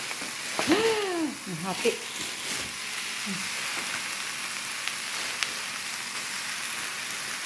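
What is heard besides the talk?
ground beef sautéing in a pan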